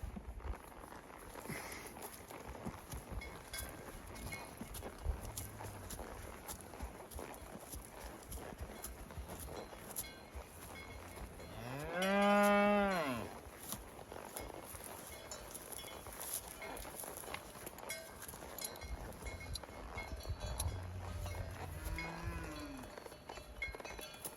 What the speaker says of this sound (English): Cows all over the place.